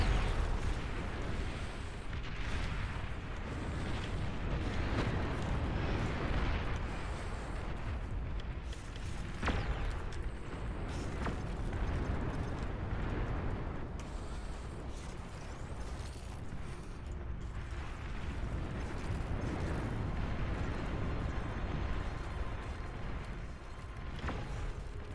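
Juno missiles fire in a large battle in the real-time strategy game Beyond All Reason, a continuous rumbling barrage of launches and booms with scattered sharper cracks, steady and dense throughout.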